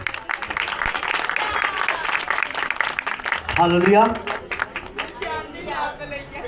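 Church congregation applause fills the space at a pastor's visit, continuous clapping with crowd voices and a loud spoken exclamation rising over it midway.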